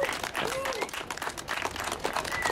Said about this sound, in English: Let's offer a round of applause for our speakers.